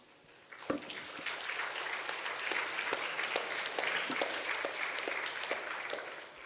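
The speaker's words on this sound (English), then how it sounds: "give them a second round of applause for their answers, please" Audience applause for panel speakers at an international yoga festival breaks out after a quiet moment, then continues as steady, moderately loud clapping with crisp individual claps audible in the mix.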